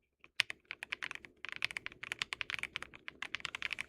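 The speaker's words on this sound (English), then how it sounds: "Really awesome keyboard, man. These are red switches, I suppose." A mechanical keyboard with red switches is typed on close by, a steady run of crisp clacking keystrokes in uneven bursts with brief pauses.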